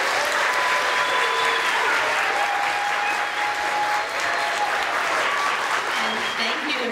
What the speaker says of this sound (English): Can I have you give one more big round of applause to our wonderful students?